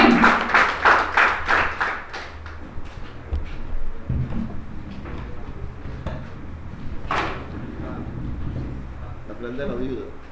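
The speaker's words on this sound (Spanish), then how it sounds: "Den un aplauso a Cristo" Scattered clapping from a church congregation rises at the start and fades quickly, followed by a reverberant room with voices and shuffling.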